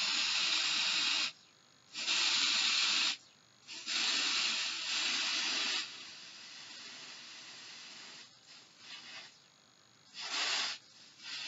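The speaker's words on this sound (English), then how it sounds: "Let's just give this one more spray here." A nail polish drying spray can hisses in several bursts of varying length, loud and close, separated by short quiet gaps.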